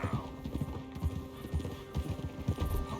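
Horse hooves clip-clop steadily on a trail in Red Dead Redemption 2, a close, even trotting rhythm under a low background hum, with no talk over it.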